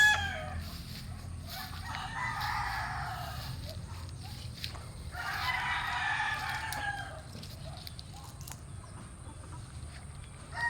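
A rooster crows twice in long, strained calls, with soft clucking among chickens in an outdoor farm setting, moderately distant.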